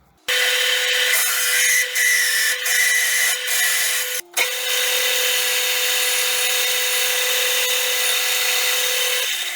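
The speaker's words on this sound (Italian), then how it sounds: "dopo gli passiamo la punta per fare l'interno" A lathe drills into a C45 steel piece, a loud continuous whining cut with a steady tone, briefly interrupted partway before resuming without pause.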